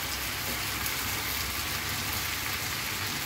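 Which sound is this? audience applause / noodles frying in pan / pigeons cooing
noodles frying in pan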